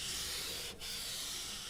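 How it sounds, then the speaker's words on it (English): Rust treatment is scrubbed into the bodywork of an Amarok: a continuous, close, hissing rub with one brief pause midway. "And then what we do is scrub that in like so."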